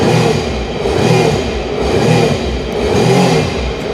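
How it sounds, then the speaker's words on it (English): Used personal watercraft jet ski engine idling out of the water, a loud, close, steady mid-pitched engine drone with a gentle pulsing rhythm and no talk. "Pushing start. You can leave these run for 45 seconds approximately out of the water."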